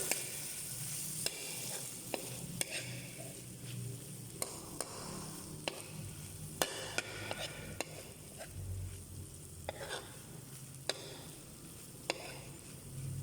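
Tofu sizzles steadily in a frying pan for tofu sisig, with occasional sharp clicks of a utensil stirring against the pan, close and continuous with no talking.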